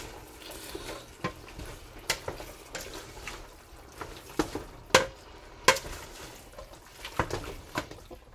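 Chili being stirred in a pan, a spoon scraping and clacking in several sharp strokes with soft wet shuffling between, close and fairly quiet.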